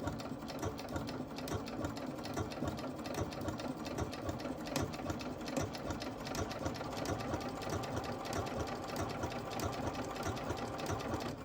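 A sewing machine runs a triple top stitch on a drawstring bag, humming steadily and close with a fast, even mechanical chatter that never stops.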